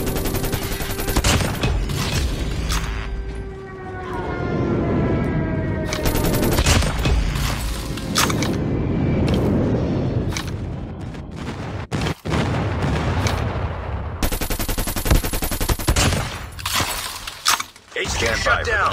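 Airstrike explosions and rapid gunfire in Call of Duty Mobile hardcore Hardpoint, with loud booms, shattering blasts and bursts of shots in dense clusters over about nineteen seconds, some stretches nearly continuous, with in-game voice callouts mixed in.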